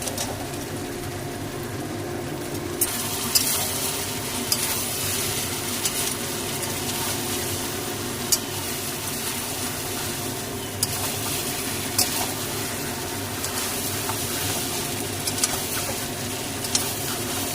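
Chicken legs cooking with turmeric and sugar for chicken malai curry, stirred in a pan: a steady broadband sizzle with scattered scraping clicks of a spoon against the pan throughout.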